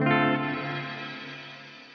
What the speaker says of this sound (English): here is what you would expect for a shimmer reverb